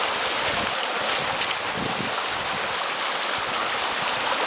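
Water from a restored brook trout headwater stream rushes steadily over a cobble riffle run, a constant broadband wash heard up close with some wind buffeting the microphone and no voices.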